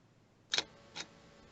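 A Fujifilm GFX100S camera shutter fires once with a crisp double click, a sharp snap followed half a second later by a softer second click, close and quiet.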